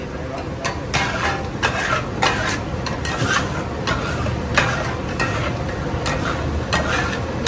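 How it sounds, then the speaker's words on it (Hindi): Tawa chicken cooks on a griddle with a constant sizzle and repeated scraping, clinking strokes of a metal spatula in an irregular rhythm, close by amid a busy eatery's background murmur. "तवा चिकन बना रही हूँ।"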